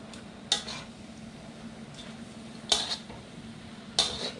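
Utensils stir egg noodles and rice noodles in a pan for Manila-style pancit, with three sharp metallic scrapes and clinks spaced a second or two apart over a faint, low background hum.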